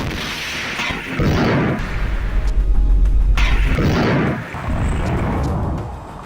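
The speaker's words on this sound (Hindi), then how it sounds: "हालांकि वीडियो में दिख रहा है कि शायद आईडीएफ का टैंक भी एक गोला दागता है, लेकिन उसके साथ ही अल कुद्स का लड़ाका उसके ऊपर रॉकेट दाग देता है।" Heavy booms from an IDF tank firing a shell and a rocket striking near it during fighting in Khan Yunis, Gaza, with loud sustained rumbling blasts that swell, pause briefly, and roar again.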